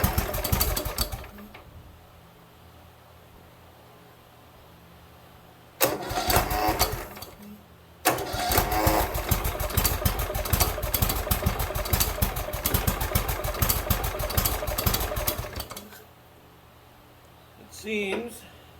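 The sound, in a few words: Cub Cadet LTX1042 lawn tractor engine running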